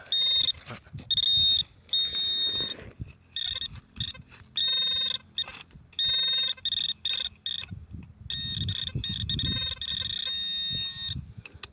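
A handheld metal detector sounds a high, steady electronic tone in repeated bursts of varying length, close and clear, with faint rustling of the search beneath.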